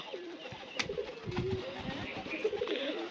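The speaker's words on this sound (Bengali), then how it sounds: "এই ঘুঘু পাখি, হ্যাঁ বাসারি। এটা ঘুঘু না?" Soft dove coos rise and fall through steady outdoor background noise, with a few faint chirps and rustles mixed in.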